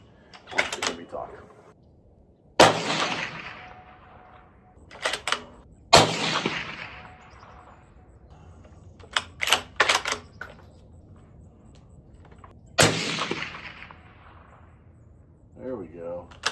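A Ruger Precision Rifle chambered in 6.5 Creedmoor fires three loud, sharp shots with short echoing tails, spaced a few seconds apart. Quieter clicks and handling noises fall between the shots, and someone speaks briefly.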